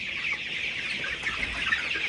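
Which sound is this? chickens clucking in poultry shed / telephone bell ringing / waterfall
chickens clucking in poultry shed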